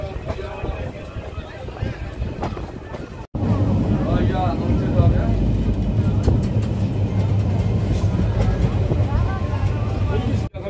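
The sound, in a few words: local train departing Debagram station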